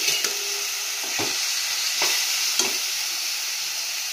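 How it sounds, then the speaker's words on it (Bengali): Onion, garlic and green chilli fry in hot oil with a steady close sizzle, punctuated by four or five brief scraping stirs of a spoon through the pan, no talking. "পেঁয়াজ আর রসুন কাঁচা লঙ্কা এটা ভেজে নেবো লাল করে"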